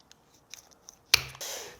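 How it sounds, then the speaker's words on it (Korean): Tajima DK-BM50 molding shears make one sharp, close snip, followed by a brief scraping rustle of the blades through the molding after a few faint ticks. "사적가위가 좋은 게 단순히 잘리는 게 아니라 잘랐을 때 느낌이 굉장히 부드럽게 들어갑니다"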